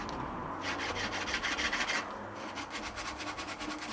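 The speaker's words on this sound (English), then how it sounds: "The valve in the seat appear to be bronze. In that case it should lap in quite nicely." A bronze valve from a Foden steam waggon injector is lapped into its bronze seat by hand, a steady gritty rubbing that rasps back and forth in quick oscillations, quiet and close, with no talking.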